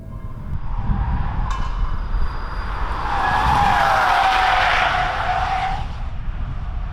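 A Peugeot 5008 SUV engine revs hard as it accelerates to 60 mph, the strained drone climbing in pitch and then holding steady, loud and close.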